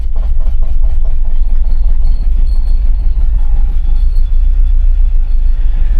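A Talbot Express camper van engine cranks on the starter and catches, then settles into a loud, close, rough idle with a steady low throb that runs to the end.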